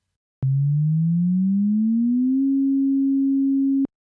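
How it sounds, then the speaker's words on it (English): A pure synthesizer sine tone glides steadily upward about an octave, then holds the higher pitch before stopping abruptly. "The sound rises up an octave in pitch when we play it."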